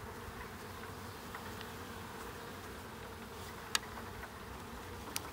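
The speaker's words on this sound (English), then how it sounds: "you get to see all the little ghost bees flying away that are covered in powdered sugar" Honeybees dusted with powdered sugar buzz around an open hive in an early-spring beeyard, a faint continuous hum with a few louder bees darting close past now and then.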